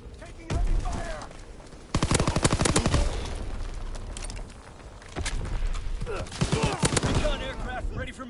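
Rapid bursts of gunfire fill a military video game match with recon aircraft overhead, loud clustered volleys separated by brief lulls and mixed with game effects.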